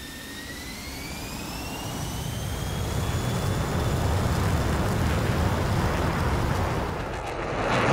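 F-16 jet engine in DCS World while the jet starts taxiing, a loud steady turbine roar with a rising whine that climbs in pitch as power builds, close and continuous with no talking.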